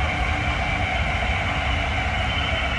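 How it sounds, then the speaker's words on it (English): A train rolls steadily past nearby, filling the whole stretch with a loud, continuous rumble and rattle of rail cars. "Look at that train coming through again."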